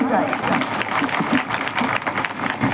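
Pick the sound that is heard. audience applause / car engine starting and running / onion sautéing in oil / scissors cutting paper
audience applause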